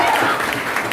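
Students clap together at a science coaching institute, a short dense burst of applause that stays steady and fairly loud throughout with no gaps.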